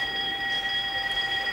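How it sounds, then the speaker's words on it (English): A prison bell rings in a women's cell block, a steady electric tone with bright sustained overtones held unbroken for the whole moment, fairly loud and with no voices over it. "That's the bell."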